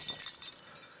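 Glass windows breaking and shattering, a short bright crash with clinking fragments that fades within about half a second, fairly faint and alone.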